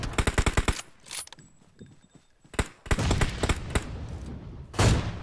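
Gunfire in PUBG Mobile during a squad battle: a loud rapid automatic burst, then sparse shots and a sustained rattling volley, with a final sharp blast near the end.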